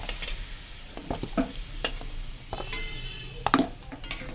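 Potato pieces frying in oil for chicken biryani, a continuous close sizzle broken by a few sharp scrapes and clinks of a utensil against the pan, with no talking.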